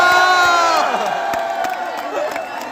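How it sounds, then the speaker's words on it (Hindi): An audience at an entrepreneur talk at IIT Bombay whoops and cheers loudly, with shouting voices and scattered claps that fade slightly over a few seconds. "तुम ताली बजा रहे हो"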